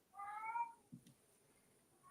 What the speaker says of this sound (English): My cat is losing her mind in the background